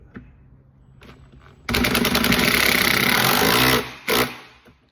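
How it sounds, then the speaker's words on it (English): A power drill runs hard for about two seconds driving into a shop cart being built, a loud rattling buzz that stops, then gives one more short burst, with quieter handling noises before it. "hold it and drill"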